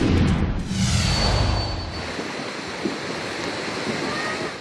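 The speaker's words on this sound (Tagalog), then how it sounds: "Ganito kalakas ang agos ng baha sa Barangay Solo, Mabini, Batangas." A strong flood current rushes beside a creek in Barangay Solo, Mabini, Batangas, a loud continuous roar of churning water with wind buffeting the microphone, steady throughout.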